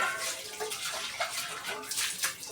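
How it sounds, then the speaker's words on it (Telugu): Tap water runs steadily into a bowl in a home kitchen while potato French fries are being prepared, a continuous hissing splash that stays close and fairly even throughout. "ఆ గిన్నెలో కొన్ని వాటర్ పట్టేసుకుందాం"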